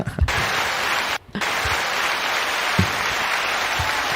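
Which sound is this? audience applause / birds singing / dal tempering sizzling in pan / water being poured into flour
audience applause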